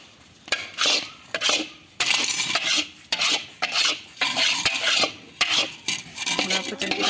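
Sugar being stirred into khoya in a kadhai makes repeated scraping, rasping strokes of a utensil against the metal pan, in steady bursts close up with no talking.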